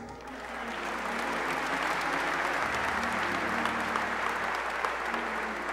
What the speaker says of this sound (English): I want you to clap your hands and receive the ministry of Tony Mason.